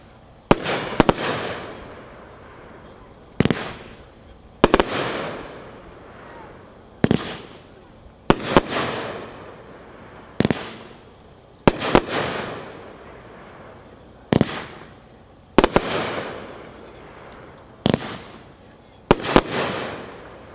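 Tannerite Defenders of Liberty fireworks cake, 18 shots, firing sharp loud bursts in a steady series spaced roughly one to two seconds apart, each with a crackling decay, outdoors at a product demo.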